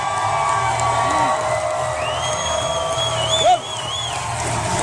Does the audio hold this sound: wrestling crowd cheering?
yes